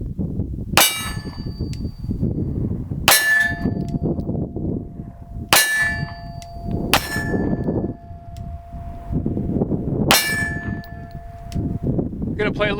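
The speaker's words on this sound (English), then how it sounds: "I think it's time to do some shooting." Pistol rounds strike steel targets outdoors, giving five sharp metallic clangs spaced a couple of seconds apart over a steady background rumble of ambient noise.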